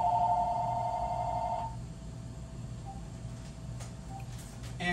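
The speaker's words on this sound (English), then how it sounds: "There goes the phone" A telephone rings in a home kitchen while fresh ground turkey is prepared, a warbling electronic trill for almost two seconds, then quiet room noise.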